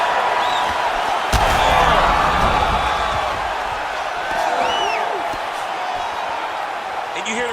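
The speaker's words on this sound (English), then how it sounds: "you hear the crowd react every time they come together" Arena crowd in the UFC 5 fighting game reacts with loud swelling murmurs and whoops as fighters trade strikes, a sharp impact thud near the start, crowd noise filling the whole clip.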